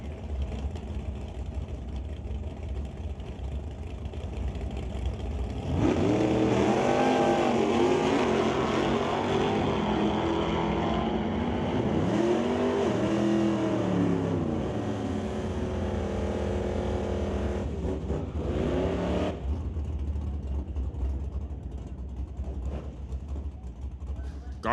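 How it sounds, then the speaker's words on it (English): A drag race between a late-1990s Ford Mustang and a 1980s Chevy Camaro: a loud, sustained engine roar rises and shifts pitch through several revving sweeps, then cuts away, with an announcer's voice talking over parts of it. "A late 90s Mustang versus an 80s Camaro."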